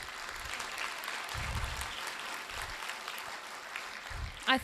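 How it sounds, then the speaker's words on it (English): A crowd at a Boland College graduation ceremony claps for the procession, a soft, distant patter of applause heard throughout with low hum and brief knocks underneath. "Can we just please have a round of applause?"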